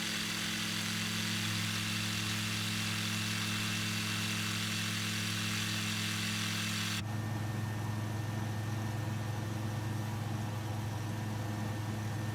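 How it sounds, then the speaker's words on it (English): An aircraft engine in Microsoft Flight Simulator 2020 during a night landing on water gives a steady, droning hum with strong tonal layers. Its character shifts abruptly about halfway through, and no one speaks. "the engine just sounds so tired and old"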